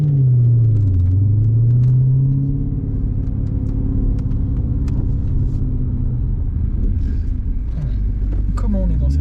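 Cadillac CTS-V V8 coupe, 564 hp, driving with its exhaust valves open, heard from inside the cabin as a deep, loud, continuous rumble that dips and rises in pitch early on, with someone talking over it.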